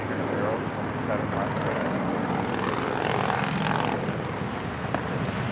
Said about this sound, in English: departing to Kailua Kona on a Bombardier Global Express